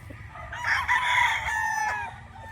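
Gamefowl roosters crow loudly and close by in a single long crow, with faint clucking and no talk.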